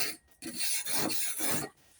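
Wire brush scrubbing rust off an old tool clamped in a vise, three close, loud rasping back-and-forth strokes separated by brief pauses.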